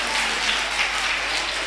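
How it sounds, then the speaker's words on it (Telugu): A crowd of children and adults at a children's home festival claps together in steady, dense applause, loud and continuous. "మరి గ్రీన్ టీం వాళ్ళందరికీ అందరం చప్పట్లు కొట్టి అభినందించుదామా?"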